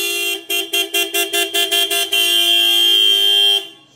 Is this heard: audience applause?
no